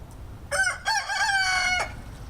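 A loud backyard rooster crows once, close by, in a single drawn-out call of about a second and a half with a brief break near the start, over faint outdoor background.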